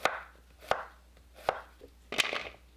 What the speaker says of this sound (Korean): 애호박을 반달 모양으로 썰어주세요.